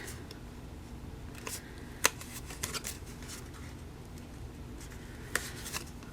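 Score tape is pressed and rubbed onto a small paper envelope, giving quiet crinkly paper rustles broken by a few brief, sharp clicks and peels.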